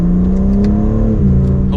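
A 2024 BMW M3 Competition accelerating hard, its engine droning loudly and steadily with a drop in pitch from a gear shift partway through, heard close from inside the car with no talk.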